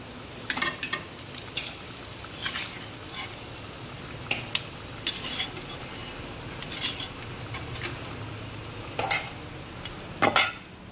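Bay leaves, garam masala and onion frying in a pan after fried potatoes, with a soft continuous sizzle broken by sharp scraping and clinks of stirring utensils against the pan, alone and fairly close.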